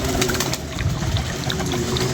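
Pigeons kept in pairs in a loft, with grain and water set out for them, give a soft cooing and fluttering murmur that runs steadily throughout without any talking.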